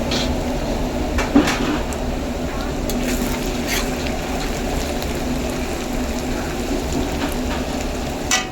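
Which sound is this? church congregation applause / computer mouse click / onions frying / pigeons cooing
onions frying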